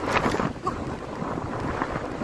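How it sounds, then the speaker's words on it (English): Strong wind gusting steadily across the microphone outdoors near the sea, a broad rushing roar that stays loud throughout with no speech. "The wind is just very strong, very, very strong."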